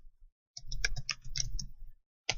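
A computer keyboard being typed on nearby, a quick run of light clicking keystrokes in two bursts separated by a brief pause, then a final tap.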